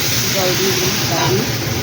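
Water poured into a hot pan of frying spices such as turmeric and chili powder gives a loud, continuous hiss and sizzle that fills the moment, with a voice speaking over it.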